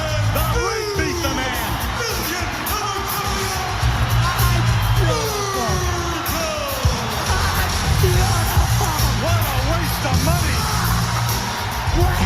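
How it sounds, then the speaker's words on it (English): Loud, sustained cheering and yelling from a packed arena crowd at SummerSlam 1991 wrestling, a dense roar with whoops rising over it and a commentator talking throughout. "Crowd going nuts."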